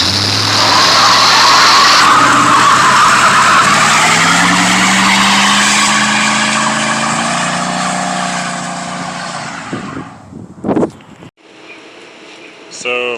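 A 1966 Pontiac Star Chief peels out, one rear tire squealing loudly and steadily over a roaring engine for about ten seconds, then the noise fades off into the distance.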